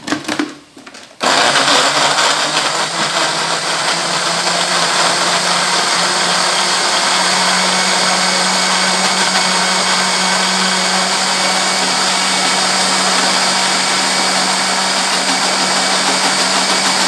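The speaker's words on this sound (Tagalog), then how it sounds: "I-blend lang natin ang kamatis." A kitchen blender pureeing tomatoes for a prawn curry sauce starts after a brief moment and runs as a loud, steady whir for about sixteen seconds, close up and alone.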